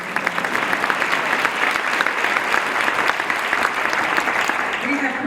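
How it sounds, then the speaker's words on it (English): Luncheon audience at an urban league annual report event breaks into steady, loud clapping that carries on for several seconds, with faint voices mixed in. "clap for that."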